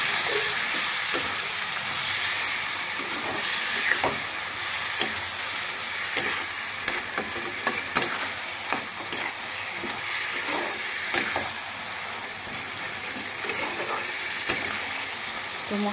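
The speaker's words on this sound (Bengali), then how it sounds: "ভালোভাবে মশলাটাকে আমি নাড়িয়ে করে কষিয়ে নেব।" Spice paste of ginger, green chilli and tomato with coriander and cumin powder stirred and fried in oil in a pan, giving a steady close sizzle with scraping stirring strokes throughout.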